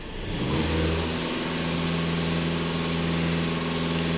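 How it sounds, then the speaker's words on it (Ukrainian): A Skoda Octavia 2.0 TDI 4x4 diesel engine is pushed to full throttle, climbing quickly from a low idle into a loud, sustained high rev that holds steady, close and with no talk. "Даю газ в пол."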